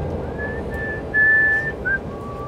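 Whistling aboard an Israeli navy ship: a person whistles a few short, clear tonal phrases, close by, over a low steady hum of ship machinery.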